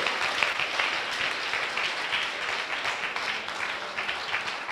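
Church congregation at an evangelical service in Abidjan, Côte d'Ivoire, applauding steadily, a dense wash of clapping hands that holds at an even level throughout.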